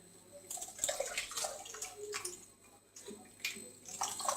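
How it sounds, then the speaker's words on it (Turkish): Water is poured onto sugar for homemade natural lemonade, a faint splashing, trickling flow in uneven bursts with brief pauses, alone without speech. "Evet şimdi suyumuzu ilave edeceğiz. Şekerimiz biraz da suyla eriyecektir."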